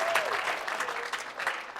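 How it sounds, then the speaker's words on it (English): Applause from a live audience at a digital advertising seminar, a short burst of clapping that rises quickly and carries on steadily for a couple of seconds, with a faint voice laid over it. "Y'all clap for me."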